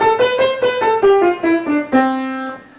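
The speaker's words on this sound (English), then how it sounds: "The major scale sounds like this" A single pitched instrument plays a major scale alone, about eight clear, evenly spaced notes, the last held and fading.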